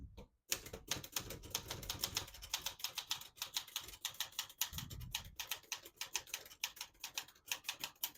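Typing on a 1933 Olivetti Lettera 33 portable typewriter: rapid, crisp mechanical key strikes in an irregular run, close and clear, with a brief pause near the start.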